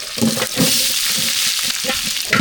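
Chana dal, curry leaves, dried red chillies and onions sauté in a hot pan, giving a steady close sizzle and crackle with occasional stirring scrapes throughout.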